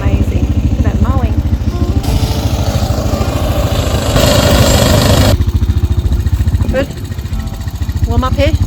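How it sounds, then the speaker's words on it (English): A mowing machine runs loud and steady while cutting grass outdoors, a throbbing engine drone with a brief surge partway through, as people talk over it. "Look at that mowing."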